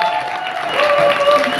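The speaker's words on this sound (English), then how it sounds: "Big applause, big applause, big applause." A large audience at a company summit presentation breaks into steady, loud applause, dense and continuous throughout, with some crowd noise and faint tones beneath.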